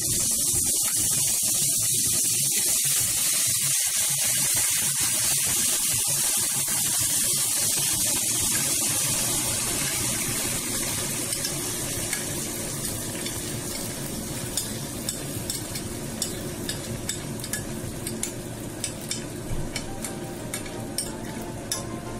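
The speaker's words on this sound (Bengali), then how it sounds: "এবারে আমি ম্যারিনেট করা কপিগুলো দিয়ে দেব।" Marinated cauliflower frying in a pan and being stirred, a loud continuous hiss and sizzle with soft clicks of a spoon scraping the metal growing more frequent toward the end.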